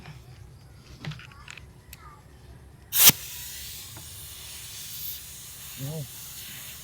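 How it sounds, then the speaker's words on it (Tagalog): Compressed air hisses from a leaking thread on a pneumatic impact wrench fitting, a sharp loud burst near the middle with fainter hissing around it, plus a brief spoken exclamation. "May singaw siya dito sa thread."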